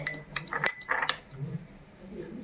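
Spoon clinking against a bowl as baking powder is added to cake batter, a few light, bright taps in quick succession, then a softer rustle.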